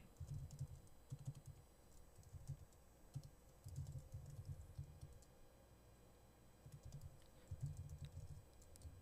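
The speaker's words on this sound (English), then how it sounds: "just typing in the chat here" Bursts of rapid typing on a computer keyboard, close and fairly quiet, separated by short pauses.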